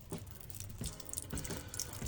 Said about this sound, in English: when I'm filling it up to water